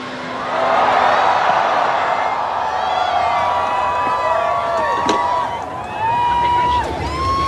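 Dense crowd cheering and whooping at the Chinese Grand Prix after Lewis Hamilton takes sprint pole in F1 sprint qualifying, a loud continuous roar lasting throughout with scattered shrill whistles and shouts rising above it.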